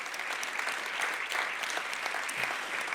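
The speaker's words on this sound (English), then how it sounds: "Give them a round of applause." Steady applause from an audience at the Saskatchewan Arts Awards, dense and even throughout for the Sask Arts staff, with a brief low thump near the end.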